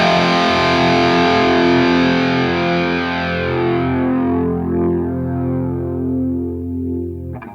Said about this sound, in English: I've got the ducking turned up on this chorus.